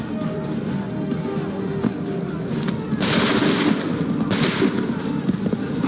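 Musket volley in Assassin's Creed III, a dense burst of gunfire crackling over a busy battlefield din, with two broad loud bursts of shots a second apart amid continuous background noise.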